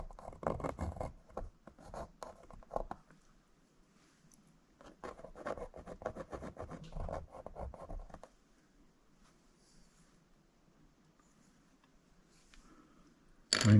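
An HB pencil scratches and rubs across paper in close, quiet bursts of strokes, with short pauses between them and a brief louder knock at the very end.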